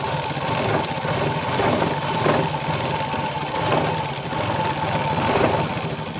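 A sewing machine runs steadily while stitching over the buttons of a plain blouse, a continuous close mechanical whir with a faint rhythmic pulse and no talking.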